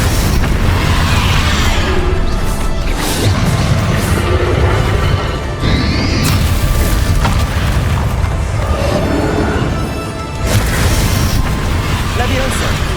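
Bombarda blast spell from Hogwarts Legacy: loud, dense booming explosions and crashing impacts recur through the span, layered with continuous game noise and effects at high volume.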